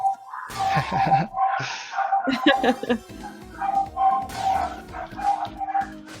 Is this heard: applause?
no